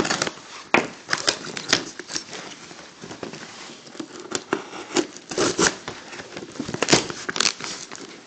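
Close crinkling, snapping plastic and scraping as a blade slices open the wrapping on a Series 1 Garbage Pail Kids trading card box, in irregular bursts with no talking.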